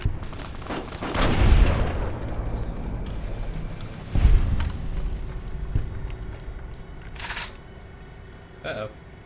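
Gunfire in Fallout: New Vegas, a few sharp in-game gunshot blasts spread across the clip, the loudest early on, with softer mechanical clicks and a voice speaking between shots.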